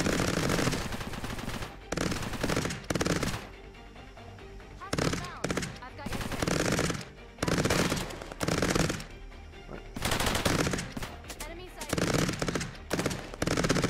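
Automated gun turrets in the Cepheus Protocol video game fire loud, rapid machine-gun bursts in repeated volleys, separated by short gaps.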